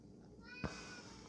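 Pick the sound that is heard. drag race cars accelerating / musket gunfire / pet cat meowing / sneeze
pet cat meowing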